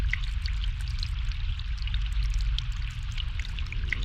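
Water pours steadily in The Longest Journey video game, a continuous trickling stream with small splashes, moderately loud with no voices over it.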